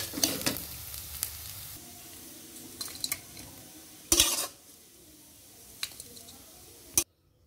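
Bottle gourd peel frying in a pan, a quiet sizzle broken by sharp scrapes and clanks of a spatula against the metal, one louder burst near the end before silence.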